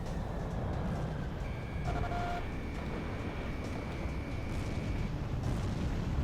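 An explosion in the Ace Combat 6 flight combat video game: a dense, rumbling blast wash over continuous jet and battle noise, with thin synthetic tones overlaid, sustained throughout.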